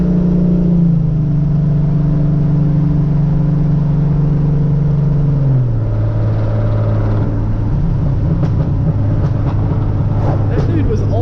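A 2013 Hyundai Genesis Coupe 3.8 V6 with full bolt-on modifications drones steadily from inside the cabin, holding a loud, even tone before shifting lower and building again as it accelerates.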